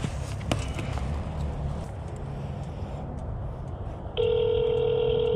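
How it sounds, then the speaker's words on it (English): A phone call goes out on speakerphone in a vehicle after a ride at a motorcycle area: a steady ringback tone starts partway through and holds loud and continuous over engine and road rumble. "Call Brock on speakerphone."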